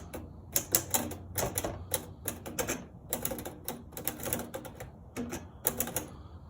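Rapid, irregular clacking of typewriter keys in bursts, close and crisp, with brief pauses between runs of strokes.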